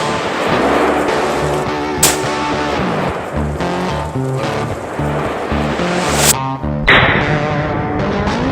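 A .223 rifle fires a couple of sharp, loud blasts a few seconds apart, each cracking out and fading quickly over a steady tonal background.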